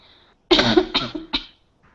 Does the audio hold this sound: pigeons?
no